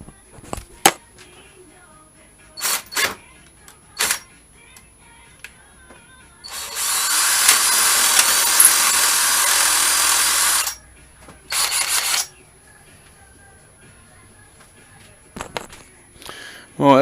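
A power drill bores a cable hole through a GSXR 1000 motorcycle handlebar, whining loudly and steadily for about four seconds, then giving a short second burst, with scattered clicks and handling noises around it.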